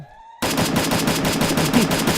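Rapid automatic gunfire in the Free Fire battle royale game starts abruptly after a brief quiet moment and continues as a fast, loud, evenly spaced burst of shots with no talk over it.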